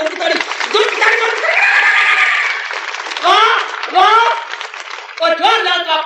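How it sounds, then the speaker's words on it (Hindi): An audience at a Hindi spiritual discourse on the Gita claps loudly in bursts, the hand-clapping swelling and dipping while voices speak and call out over it. "जोर की ताली जोर की ताली जोर की ताली"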